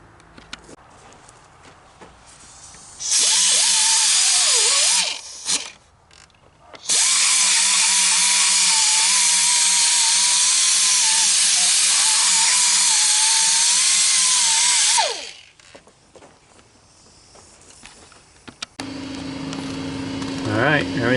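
A power tool whines loudly in two long bursts while cleaning the gasket surface on the engine block of a 2012 Chevy Sonic, with quieter workshop handling noises between and after.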